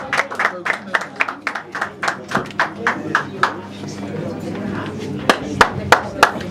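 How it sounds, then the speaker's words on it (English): A small press-conference audience claps in a run of distinct, fairly close hand claps that thin out midway, then return as a few sharp claps near the end, with talk and room chatter underneath. "Oh, put your hands together."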